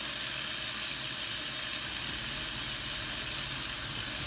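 Tap water runs steadily and close by as bleach is rinsed out of a hair closure, making an even, hissing splash that carries on unbroken with no voices.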